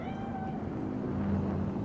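A cat in the video game Cyberpunk 2077, set in Night City, lets out a drawn-out meow over a steady low background hum, fairly close and clear, with no talking.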